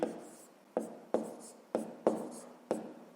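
Pen or pencil writing out a long-division calculation by hand for a fifth-grade maths exercise: six quiet, crisp strokes and taps at irregular intervals, close up, with no talking.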